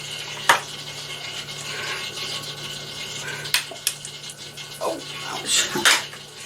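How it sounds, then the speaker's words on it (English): Mayonnaise is stirred into a chicken pasta bake with a utensil scraping and clinking against a dish in irregular strokes, with a few sharper knocks and a faint steady hum behind. "I'm going to mix it in till it's all done."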